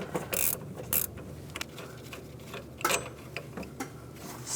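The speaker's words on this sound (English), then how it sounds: "loosen up the bolt right here. And using a ratchet wrench makes it a little easier." A ratchet wrench clicks as it loosens a bolt on the lower intermediate steering shaft of a 1999-2006 Chevrolet Silverado, giving close, irregular bursts of ratcheting with metallic knocks and creaks in between.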